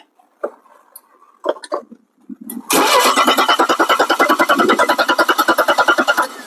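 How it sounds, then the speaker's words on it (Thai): A Mercedes-Benz W211 with a 2.5 engine cranks in a fast, loud, even rhythm without catching, after a few brief clicks and knocks, with no voices over it. "พอล้างเครื่องแล้วเครื่องไม่ติดเลยครับ"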